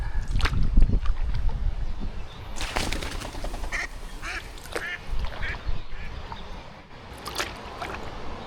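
Ducks quacking in scattered bursts beside a river during a canoe trip on the River Waveney, with paddle and water noise and wind underneath, moderately close.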